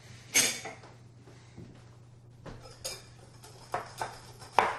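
Spoon clinking against a bowl while stirring mustard into homemade bleu cheese dressing, a few sharp scattered clinks and scrapes, close and fairly quiet with a low hum underneath.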